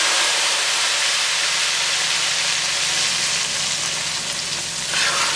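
Hot tadka poured over balti dal sizzles loudly and steadily, a dense broadband hiss that holds close and constant throughout with no voices.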